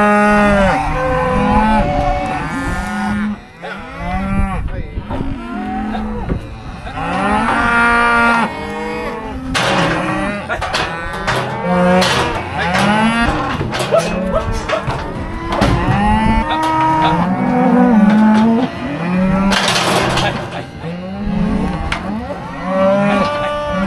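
Cattle moo and bawl repeatedly during weaning as cows are separated from large calves, many overlapping calls near and far forming a loud, continuous chorus.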